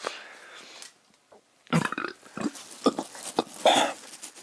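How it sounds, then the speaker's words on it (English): A person burps several times, loud and close, with short guttural bursts separated by quiet gaps. "I'm just burping."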